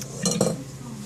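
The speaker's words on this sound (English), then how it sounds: "So she's going to put the bowl in the sink and let it sit there for a second." A mixing bowl set down in a kitchen sink while baking red velvet cake, heard as two quick close clunks and clinks of dishware, then a low steady room hum.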